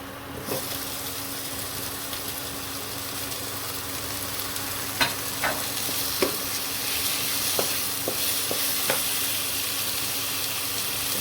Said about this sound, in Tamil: ஒரு 2 மினிட்ஸ் வதங்கட்டும். எண்ணெய் இருக்கிறதுனால கருகாது. வதக்கி விட்டுக்கோங்க.